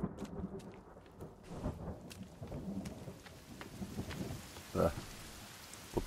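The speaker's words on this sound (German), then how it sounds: "Scheiß doch, regnet." Steady rain with rolling thunder in the survival video game The Forest, a dense wash of falling drops under low rumbles, with a louder thunder crack near the end and no talk over it.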